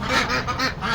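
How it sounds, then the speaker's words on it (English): Several of about eleven backyard ducks kept alongside chickens in a winter pen give loud, close, honking calls in quick overlapping bursts, with no talk over them. "Here are the ducks."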